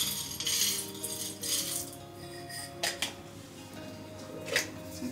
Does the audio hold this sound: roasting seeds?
yes